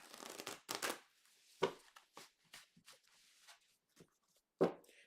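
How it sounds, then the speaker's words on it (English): A deck of tarot cards being shuffled close up, with a series of quick riffling bursts and soft slaps separated by short pauses, with no talking. "One good shuffle for the Gemini."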